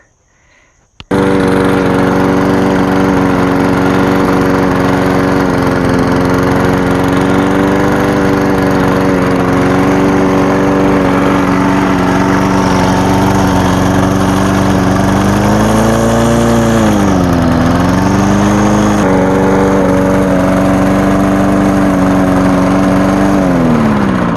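A push lawn mower's small engine starts after a quiet moment and then runs loud and steady close by, with a brief dip and recovery in revs partway through, and no talking.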